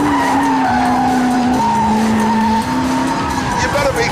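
Koenigsegg supercar tires squealing in a sustained, loud skid while understeering, the high-pitched whine steady and close throughout and blended with engine noise.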